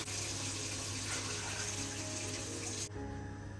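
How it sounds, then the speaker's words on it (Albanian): Roughly a litre and a half of water pours steadily over fried lamb in a pot, a dense rushing gush that stops suddenly near the end, leaving quieter bubbling. "do t'i hedhim rreth 1 litër e gjysmë ujë"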